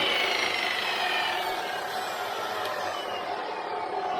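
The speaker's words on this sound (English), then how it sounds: "This chop saw is gonna make me have to start therapy or something. Just spin. You just gotta spin." A DeWalt chop saw spins with a steady, loud, broadband whir that holds unbroken for the whole stretch, with no talking over it.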